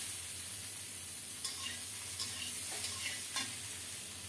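Vegetable dal sizzles and fries in a pan after turmeric goes in, with a steady soft sizzle and a few light scraping stirs of a spoon, heard close and quiet.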